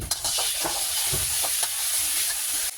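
Steady hot-oil sizzling of minced garlic and fermented soybean paste frying, with soft stirring scrapes, continuous and close, no voices.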